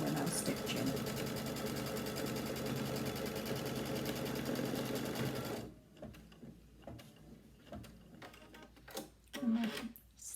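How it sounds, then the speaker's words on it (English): An embroidery machine stitches the final piece of a quilt corner with a continuous, busy mechanical chatter for nearly six seconds, then stops abruptly, followed by quiet handling sounds and a little soft talk. "Final piece on this corner we're now stitching."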